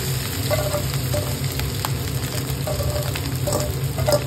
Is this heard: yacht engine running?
no